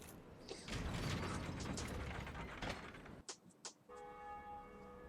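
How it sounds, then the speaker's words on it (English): A lever is pulled in Dark Souls Remastered, a loud grinding, ratcheting mechanism that rumbles for a few seconds, then clanks and settles into a ringing metallic tone. "And we pull this lever."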